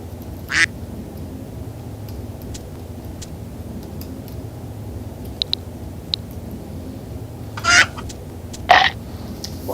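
A video game chicken repeatedly making its dying sound, a few brief squawking quacks scattered across quiet background hum, with faint ticks between them.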